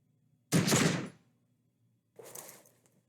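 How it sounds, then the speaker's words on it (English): Two sharp gunshot blasts in the Disco Elysium video game, a loud close crack followed after a pause by a softer second report, each decaying quickly into silence. "You hear an explosion within the weapon in your hands."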